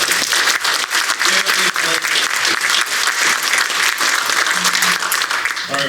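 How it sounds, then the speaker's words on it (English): Sustained, loud audience applause for a business panel on AI and automation in operations, steady dense clapping filling the room for about six seconds with a faint murmur of the crowd beneath. "can I please have a round of applause"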